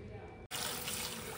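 Tap water runs into a bowl of moong dal lentils being washed, giving a steady, close rush of flowing water that starts abruptly after a brief quiet moment.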